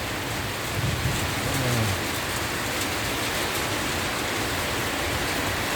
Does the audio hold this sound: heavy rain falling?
yes